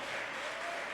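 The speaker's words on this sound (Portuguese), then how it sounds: "Aplauda ao Senhor." A church congregation applauds together in a dense, steady wash of many hands clapping at once, loud and close, with no voices standing out.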